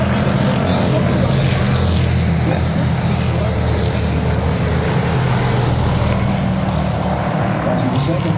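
Pure stock cars racing around a track in a feature race, a continuous loud engine roar that holds steady throughout without clear breaks.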